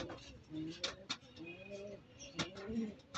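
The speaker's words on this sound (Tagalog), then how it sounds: "ito yung kalapati ko" A pet pigeon, a light checkered bird, coos in low, repeated throaty phrases close by, with a few sharp clicks and rustles among them and a voice talking faintly in the background.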